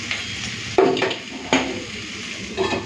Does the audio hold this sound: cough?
no